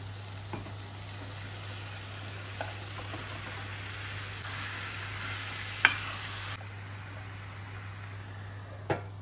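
Goat meat with homemade coriander powder frying in a pan gives a steady, continuous sizzle throughout. A few faint clicks and knocks come through, and no one speaks.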